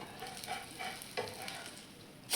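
A wheat flour breakfast pancake sizzles steadily on a hot pan, with a close, continuous frying hiss and a few soft scraping touches, and no voices.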